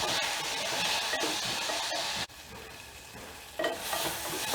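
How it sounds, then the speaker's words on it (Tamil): Tomatoes and onions sauté in a pan for mutton biryani, giving a dense close sizzle with stirring scrapes, a brief dip in the middle, and no talk. "தக்காளி நல்லா வதங்கி வெங்காயத்தோடு மிக்ஸ் ஆகணும்."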